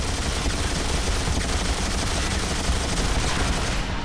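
Dense, continuous automatic gunfire in the X-Men Origins: Wolverine video game as a boat is shot up, loud rapid bursts blending into a steady roar with no pauses and no talking.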